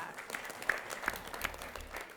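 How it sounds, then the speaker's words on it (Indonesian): A studio audience on a televised school quiz show gives faint, distant applause for a contestant, soft clapping over a low background hum. "kita berikan tepuk tangan untuk Jelita"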